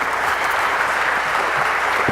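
Loud, sustained applause from an executive conference audience in Peru, a thick continuous roar of many hands clapping close and evenly for the whole stretch.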